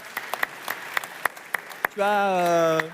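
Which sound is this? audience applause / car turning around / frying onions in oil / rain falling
audience applause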